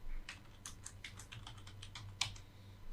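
Keys clatter on a computer keyboard in a steady run of close, light taps while text is entered for an end-credit setup, with no voices.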